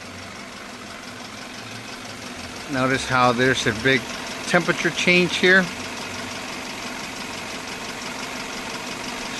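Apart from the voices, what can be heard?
car engine running at idle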